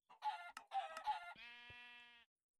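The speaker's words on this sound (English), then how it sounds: "Did it just randomly summon a chicken?" A Minecraft chicken clucks in a few quick, clipped bursts, then gives a longer sustained squawk. The sound is clear and close, with no talking over it.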